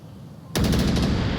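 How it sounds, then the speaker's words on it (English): Automatic gunfire erupts abruptly in a competitive esports quarter-final match of a video game, a loud, sustained burst of rapid shots with no speech over it. "Snow getting shots towards Mantis"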